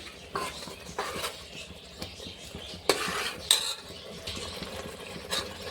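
A spoon stirs tomato rice with onion and coriander in a pan, giving soft scraping and clinking metal contacts with a few sharper clanks, close and moderately loud, with no talk.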